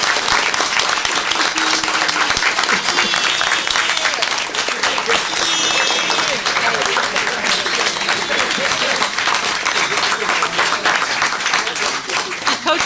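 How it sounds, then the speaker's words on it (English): A crowd at a school event gives a school football team a big round of applause, dense steady clapping that holds strong and unbroken throughout, with scattered voices mixed in. "a big round of applause for our boys"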